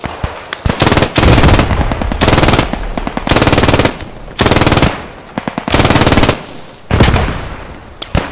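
MG42 machine gun in the WWII shooter Post Scriptum during a defense battle at Heelsum: loud, very rapid ripping bursts of one to two seconds each, separated by short pauses, close and dominant.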